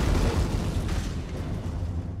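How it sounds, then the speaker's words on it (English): A deep, rumbling explosion in a science-fiction audio drama rolls low and heavy through the whole stretch, loud and steady with no voices over it. "What was that? Sounded like an explosion."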